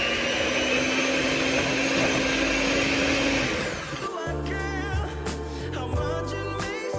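An electric mixer whips butter until fluffy and pale, a loud steady motor whir that drops in pitch partway through and continues with a rougher, fluttering drone.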